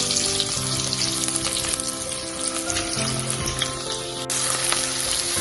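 Garlic and green chili fry in a pan with a busy, crackling sizzle, close and continuous, with faint clinks and stirring over a low background hum.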